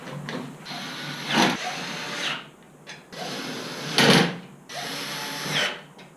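Power screwdriver driving flat head screws into a reflective backer while fitting T5 fluorescent light fixtures, with three bursts of whirring drive separated by short pauses, close and fairly loud with no talking.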